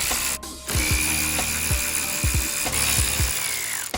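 A ratchet clicks in short bursts while loosening the top shock bolts on a Dodge Neon SRT4, several separate runs of pawl ticking, close by against a steady hum of background noise.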